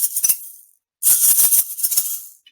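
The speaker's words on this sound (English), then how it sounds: "Egg shakers. Aren't they fun to use?" Egg shakers shaken in short rhythmic bursts, a dry bright rattling that stops briefly, then returns in a longer run of quick shakes before fading out.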